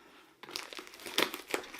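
Crinkling of a tightly taped parcel of butterflies being handled during unboxing, close and crisp, with bursts of crackling plastic and tape that rise and fall over about two seconds, no talk.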